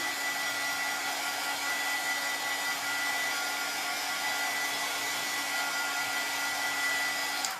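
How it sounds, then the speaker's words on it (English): A hair dryer blows steadily at close range, a constant whirring roar with a thin whine that runs unbroken throughout. "So I'm just going to use the dryer here."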